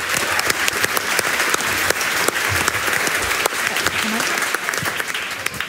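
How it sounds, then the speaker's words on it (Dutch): A student debate audience claps loudly and steadily for a politician being introduced, the dense applause continuing throughout with a few scattered voices. "Applaus."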